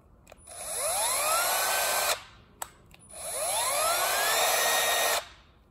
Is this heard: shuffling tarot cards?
no